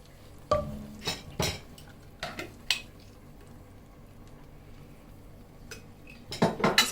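A spoon stirring dal seasoned with garam masala in a metal pot: sharp clinks and scrapes in a few irregular clusters, close and fairly quiet, with near silence between the strokes and a quick flurry of clatter at the end.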